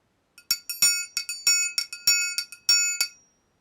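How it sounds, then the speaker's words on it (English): A symphonic triangle is struck about a dozen times in a quick, uneven rhythm, each bright metallic ring sharp at the attack and shimmering briefly before the next hit, close and fairly loud. "This is my standard kind of symphonic triangle."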